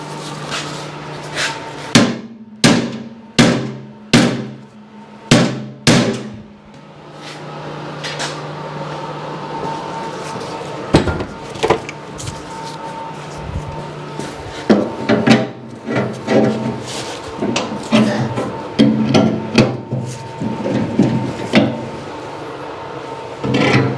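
A sledgehammer strikes a bent metal part of a Simplicity snow blower: a run of about seven loud, evenly spaced blows, a pause with rustling, then quicker, lighter clattering hits near the end.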